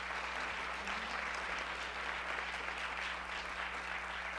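An audience at a school board candidate forum applauds continuously, a dense, even wash of clapping heard from a distance.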